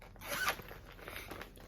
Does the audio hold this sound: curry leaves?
no